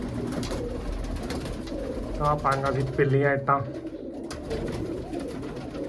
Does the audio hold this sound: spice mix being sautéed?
no